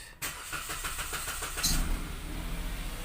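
A 2014 Kia Picanto engine cranks briefly and catches, then settles into a steady close idle, during a transmission fluid change.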